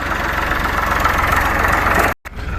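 A farm tractor engine idles with a steady low rumble and knock, loud and close. It cuts out briefly near the end before the running resumes.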